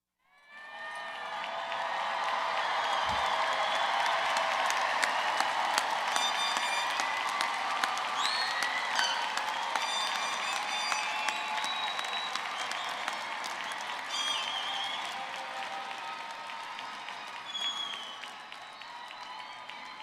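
A graduation ceremony audience breaks into applause that swells within a couple of seconds into a dense, sustained roar of many hands, with scattered cheers and whoops, holding steady for about twenty seconds.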